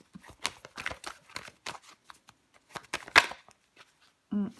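Tarot cards are handled and laid down on a table during a reading: a run of crisp, close card snaps and slides in irregular bursts, with a brief low hum near the end.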